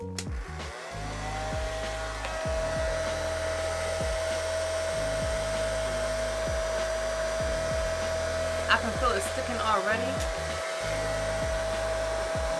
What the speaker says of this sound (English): I'm just gonna hit it with a blow dryer.